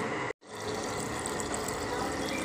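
Water poured into a glass while making lemonade, a steady close rushing flow running almost the whole time after a brief gap near the start, with no talk.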